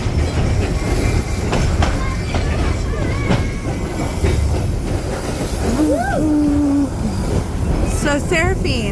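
Rumbling train ride in Colorado Springs, rail cars clacking steadily over the track with intermittent wheel squeals, heard from inside the car, continuous and moderately loud.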